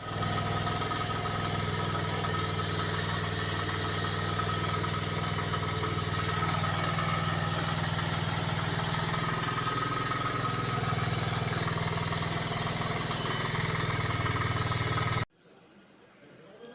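Bajaj Pulsar motorcycle, serviced at home after being submerged in a flood, fires up on its self-starter and settles into a steady, even idle for about fifteen seconds before cutting off abruptly.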